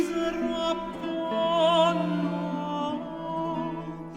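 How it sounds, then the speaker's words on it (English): Cavalli's Misero Apollo, an operatic lament over a descending lament bass with a chain of suspensions, plays as sustained vocal and instrumental lines with gentle vibrato, steady and moderately loud with no talking. "Here's Cavalli's Misero Apollo, which uses exactly this chain of suspensions."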